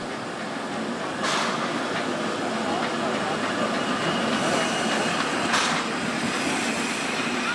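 Clet ISA steam tram rolling along street rails, a steady close rumble and hiss with two brief bright bursts of steam or squeal, no talk.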